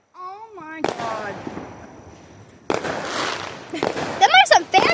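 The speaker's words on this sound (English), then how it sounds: "Them are some fancy fireworks." Fireworks burst in a night display, with rising whistles, sharp pops and crackling bangs that come in uneven bursts, while excited voices cheer and shout loudly over them.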